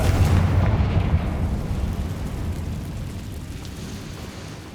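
Confringo fire spell detonating in Hogwarts Legacy on PS5, a deep rumbling blast that starts loud and slowly decays into a low roar, with no talk.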